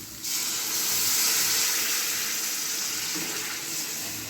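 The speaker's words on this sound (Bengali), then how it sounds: "এবার আমি জল ঢেলে দেবো। জল ঢেলে দিচ্ছি" Water poured into catfish masala for kalia bursts into a sudden rushing hiss and bubbling sizzle that starts abruptly and holds steady at close range, easing slightly toward the end.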